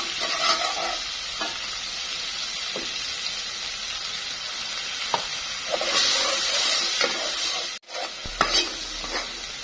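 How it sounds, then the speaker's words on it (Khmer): Coconut milk and curry being stirred in a hot pan, with a steady frying sizzle throughout and intermittent scraping strokes of the spoon, briefly cut off near the end before resuming. "ហើយយើងកូរឲ្យសព្វ"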